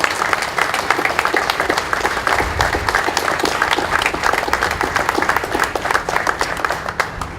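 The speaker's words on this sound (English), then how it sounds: "I just want to ask you to join us in a round of applause for all their contributions" Sustained audience applause at a Cape Verdean flag raising ceremony, dense steady clapping from a crowd that carries loudly through the whole stretch without letting up.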